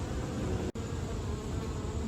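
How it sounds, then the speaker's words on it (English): Dense, steady buzzing of many bees swarming a blooming sumac outdoors on a warm morning hike in a park, continuous and close, with a brief dropout partway through. "I'm passing the sumac, and it is loaded with bees."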